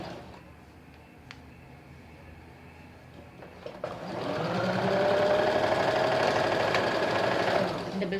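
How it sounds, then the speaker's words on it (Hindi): After a quiet stretch, a sewing machine starts running a double line of stitching along a collar-neck kurti's shoulder seam, a steady close hum and rapid patter lasting about four seconds before slowing to a stop. "डबल सिलाई कर दें इस पर।"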